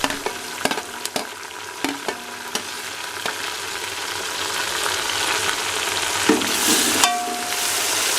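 Chopped tomatoes and ground green chillies frying in a pan over browned onions, a steady close sizzle punctuated by a series of sharp spoon clacks against the pan early on, then continuous hissing.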